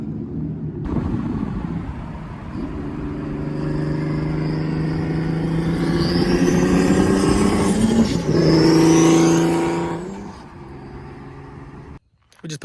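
A manual single-turbo Infiniti Q50 drives a lap, its engine droning steadily and rising in pitch as it accelerates through the gears, then cutting off abruptly near the end.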